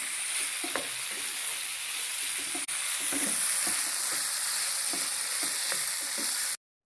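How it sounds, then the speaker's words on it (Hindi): Chicken pieces fry with ginger, garlic and green chilies in a hot pan for puff chicken cones. A loud, steady sizzle runs under repeated stirring scrapes and taps, with a brief dropout before it cuts off abruptly. No voices. "मैंने अदरक लहसुन और हरी मिर्चों को अच्छी तरह भून लिया, और अब मैं इसके अंदर ये चिकन डाल दूँ"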